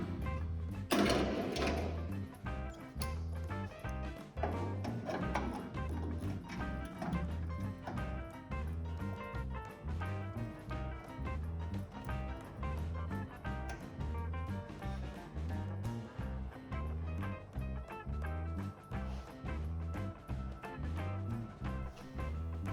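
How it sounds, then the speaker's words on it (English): A MIG welder works on car body repair panels on an HQ, giving a continuous, close crackling buzz with a fast, steady rhythm that carries through the whole stretch. "So I did decide to use the MIG welder on these ones."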